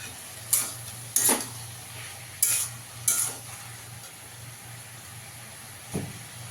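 Potatoes and ridge gourd frying in a pan, a constant soft sizzle broken by several sharp spatula knocks and scrapes, four clustered in the first half and one later, close by with no speech.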